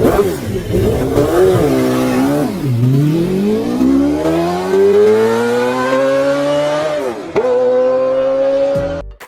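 Yamaha R1-based 2000cc V8 motorcycle engine with a titanium free-flow exhaust revving loudly up close, its pitch dipping and then climbing in long smooth sweeps with a brief blip near the end before cutting off.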